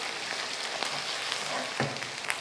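Onions fry with ginger-garlic paste and coarsely crushed cumin for Lahori murgh chanay. A close, continuous sizzle crackles throughout, with a few soft stirring knocks.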